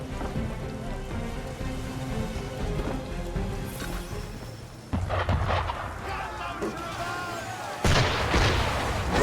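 Ship cannon fire in Assassin's Creed III booms in heavy, loud blasts, with one burst midway and another near the end, over ambient sea noise and game dialogue.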